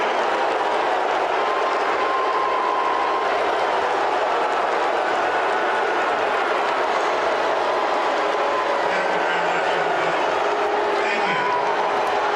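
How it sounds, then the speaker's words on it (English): A large crowd at a military event keeps up a steady, sustained roar of booing, broad and continuous without a break, with no clear single voices standing out. "This is literally 2 minutes of booing."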